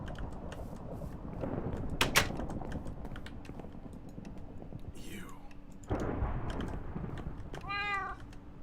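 A cat meowing in the video game TerraFirmaPunk, two short mewing calls rising and falling near the middle and end, over a bed of keyboard clicking and soft talk.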